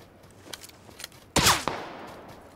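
Loud burst of video game gunfire close by, a sharp crack-heavy shot followed by a second report and a short echoing tail, after quieter scattered distant pops.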